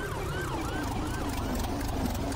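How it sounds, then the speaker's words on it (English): Police sirens wail in a video game during a cart ride, looping up and down steadily over a loud, continuous rumbling drone. "Why are there police sirens?"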